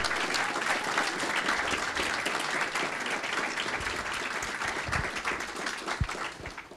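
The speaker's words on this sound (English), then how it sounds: "Let's give all of our students another round of applause." A large audience claps steadily for undergraduate students after their research lightning talks, a dense, even applause that carries on for several seconds before tapering at the end.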